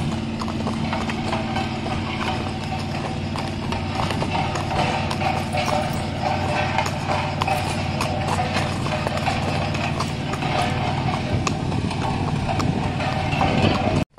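Horse hooves clip-clop in a steady, continuous rhythm as the horse is led along on the way to the farrier. The hoofbeats are loud and close, with no talking over them.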